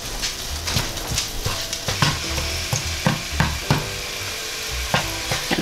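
Chicken wonton filling sautéing in a pan, with a steady sizzle broken by repeated scraping and stirring strokes at an irregular rhythm, close and fairly loud.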